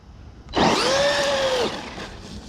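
Electric motor of a Traxxas Maxx RC truck revving hard during a standing backflip attempt, a sudden loud whine rising and holding for about a second, then dropping away, close by with no talk.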